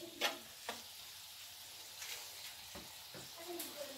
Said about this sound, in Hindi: ये मैंने लिया है चिकन, इसे मैं थोड़ा सा ऑयल डाला है और इसे मैं पकाऊंगी